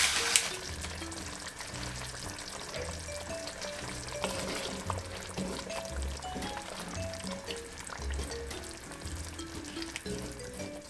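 Jamaican brown stew beef simmers and boils down in a pot, a steady low sizzling and bubbling that stays even and moderately quiet throughout.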